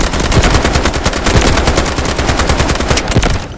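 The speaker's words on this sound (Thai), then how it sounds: "เดี๋ยวเรามาดูฟิลลิ่งการยิงกันแบบคร่าวๆนะเพื่อนๆ" Rapid automatic fire from a SCAR-H battle rifle in the Delta Force video game, a dense, loud stream of sharp shots in a steady rhythm, close up and continuous throughout.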